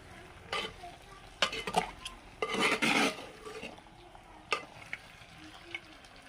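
Spice masala is stirred into mutton in a pot, with quiet intermittent scrapes and clinks of a spoon against metal over a faint sizzle.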